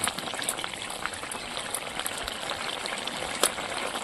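Taro and spinach curry bubbling in a pot on a village stove, a soft continuous boil with faint pops and one slightly louder splash.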